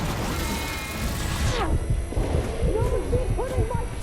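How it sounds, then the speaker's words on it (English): A big explosion in the video game Horizon Forbidden West: a loud crash and burst with rumbling debris, followed by lingering low impacts and game effects. "It's time for a big explosion!"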